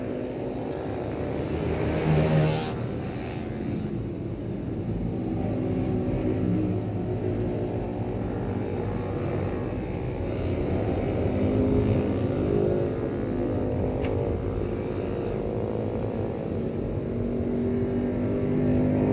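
A mixed group of Kawasaki, Yamaha, Suzuki and Honda motorcycles riding together on an Indonesian independence-day tour, their engines blending into a loud, steady drone with a brief swell near the start and no voices.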